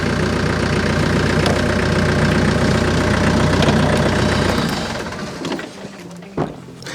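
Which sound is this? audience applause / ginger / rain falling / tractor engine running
tractor engine running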